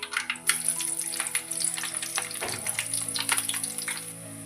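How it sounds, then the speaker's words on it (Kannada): Green chillies frying in hot oil in a pan, a busy close crackling sizzle with scattered pops and spits throughout. "ಈಗ ನಾನು ಹಸೆಕಾಯಿ ಹಾಕ್ಕೊತೀನಿ. ಇದ್ರಾಗ ಚೆಂದಾಗೆ ಹುರ್ಕೊಂಡು ಬಂದು"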